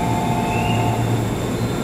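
JR West Homeliner train for Ogaki pulling into Nagoya Station, a steady rumbling roll of wheels on rails with a faint high squeal, close and continuous.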